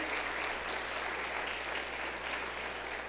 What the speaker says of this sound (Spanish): Dele la ofrenda de palmas al Rey fuerte, que es para él.